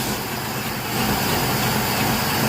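A 62-year-old carbureted engine under tuning, running steadily with a broad mid-level drone that swells slightly after the first second, sounding like it is revving and sagging without stalling.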